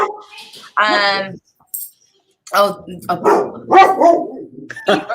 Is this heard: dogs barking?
yes